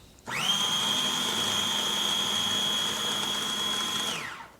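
A food processor whirs steadily for about four seconds, blending a blue cheese dip before the pecans are added, starting abruptly and winding down at the end, loud and close with a strong high-pitched motor whine.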